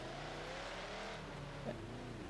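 A high-horsepower car in a racing video game, capped at 6,000 RPM, hums as a faint, even engine drone at a steady pitch for a couple of seconds, with no one speaking.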